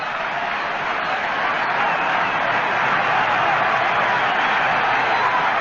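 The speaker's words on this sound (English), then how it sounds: "Listen to this crowd. They're unbelievable." A large baseball crowd at an Angels at Yankees game roars in a steady, unbroken wall of cheering, heard through an old-style radio broadcast.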